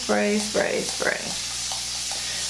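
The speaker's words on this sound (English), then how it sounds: "So I spray." Several short bursts of a spray bottle misting water onto curly hair hiss in quick succession, close and fairly quiet, followed by fainter trailing sprays.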